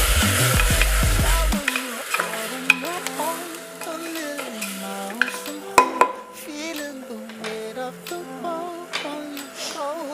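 Vegetables for pulao are stirred and fried in a pan: a loud sizzle at first, then scraping and clinking of a utensil against the pot over a melodic background.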